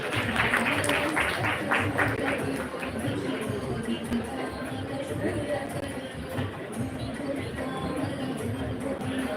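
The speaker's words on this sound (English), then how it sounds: "Give a big round of applause for them." An audience at an HR conclave claps for guests receiving tokens of respect, dense applause loudest at the start and then settling into a steadier, slightly softer patter with crowd babble underneath.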